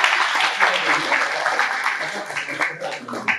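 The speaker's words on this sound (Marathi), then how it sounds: "यासाठी स्वतःसाठी एकदा जोरदार टाळ्या." An audience at a lecture hall gives a short burst of dense, sustained hand clapping, close and lively throughout.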